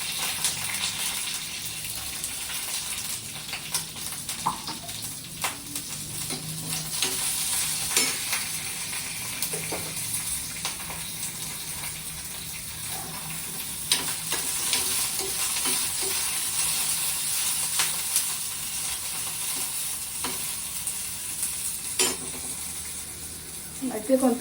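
Green chillies fry in hot oil with a steady, hissing sizzle, occasional stirring scrapes and small pops breaking through the constant frying noise, heard close up without speech.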